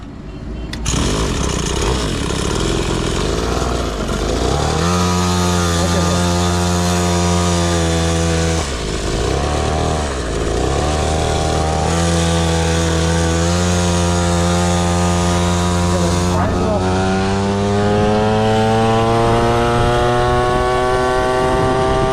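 A small mini superbike styled like a Ninja ZX6R drones loudly up close on a ride, its buzzing engine rising and falling through several rev sweeps with a strong steady tone and no talking.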